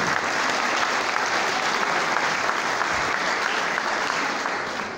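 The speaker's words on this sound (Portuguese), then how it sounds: "Uma salva de palmas para vocês." Sustained applause from a crowd at a graduation ceremony, steady and dense clapping throughout, fading slightly at the end.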